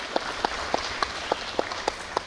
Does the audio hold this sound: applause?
yes